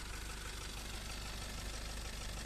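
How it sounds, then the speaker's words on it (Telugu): A 2019 Maruti Ertiga VDi diesel engine idles steadily with a low, even rumble at a quiet, constant level and no other sound over it. "ఇంజన్ సౌండ్ కూడా చూపిస్తాను చూడండి ఒకసారి."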